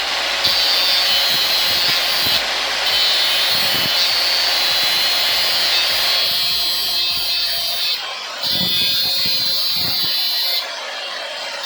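A power tool, likely a handheld grinder, cuts through the screws of an old hard disk drive with a loud, continuous high-pitched whine. The whine briefly dips and restarts, and scraping knocks run underneath it.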